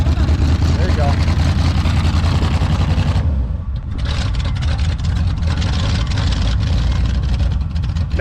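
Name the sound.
abandoned 1979 Chevrolet engine running after a jump start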